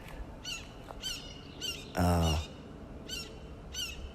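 Repeated sharp bird chirps and squawks ring out at intervals, with one louder harsh call in the middle, over faint background noise.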